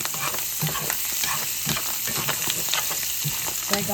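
Bacon and mushrooms frying in a pan, a steady dense sizzle with occasional stirring scrapes, close and continuous, with no talking.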